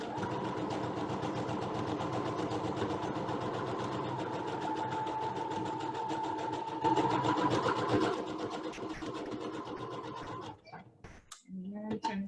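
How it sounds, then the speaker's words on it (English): A sewing machine stitching a cloth mask runs steadily with a fast, even rhythmic stitching clatter for about ten seconds, then stops, followed by a short voice. "So I love a sewing machine. This goes by so quickly."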